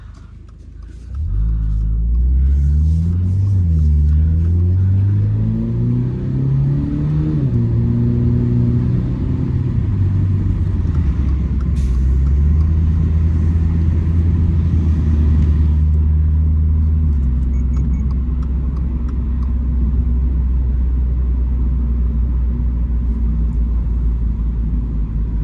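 A 2024 Toyota GR86 automatic sports car pulls away and accelerates, its engine rising through several gear changes with audible shifts, then settling into a loud, steady cruising rumble close inside the cabin.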